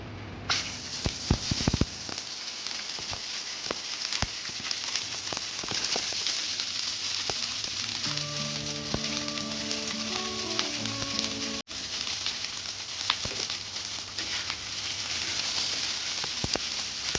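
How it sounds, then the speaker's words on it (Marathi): Onion roasting in a pan for a village-style chicken curry gives a steady crackling sizzle throughout, close and fairly loud, with scattered pops and a brief tonal chime partway through, no talk. "आता आपण कांदा भाजून घेऊया"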